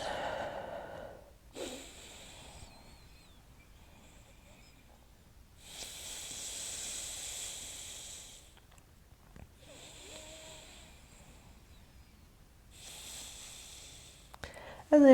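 Slow, deep breaths during a gentle yoga flow, drawn in and let out in long, soft, airy swells with quiet pauses between them, close to the listener and unaccompanied by talk.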